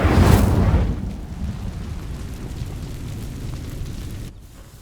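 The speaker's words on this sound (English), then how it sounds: "These dry vines are one spark away from becoming kindling. Lumos. Incendio!" A spell cast in the video game Hogwarts Legacy ignites dry vines with a loud whooshing burst of flame, then a roaring, crackling fire burns steadily for several seconds before dropping off abruptly.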